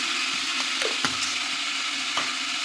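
Whole black cardamom, cloves, cinnamon sticks and peppercorns frying in hot oil for a chicken roast, giving a steady close sizzle with a few soft clicks and stirring taps over it.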